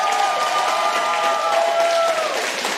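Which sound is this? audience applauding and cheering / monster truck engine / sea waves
audience applauding and cheering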